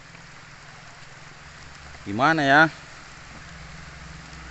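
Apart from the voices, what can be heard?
rain falling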